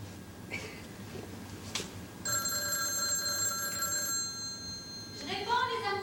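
A telephone rings with a sustained electronic bell tone lasting a couple of seconds, set against a quiet indoor room, with a brief chirp near the end and people talking around it.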